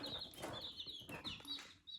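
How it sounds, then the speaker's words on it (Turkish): High, thin chirping repeats rapidly and continuously at close range, a busy cluster of small birds peeping over one another. "Burada da civcivler var."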